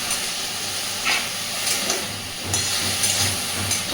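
Snake gourd, chichinga, frying in a pan for a poppy seed paste dish, giving a steady broadband hiss and sizzle with a few brief louder bursts as it is mixed, no voices.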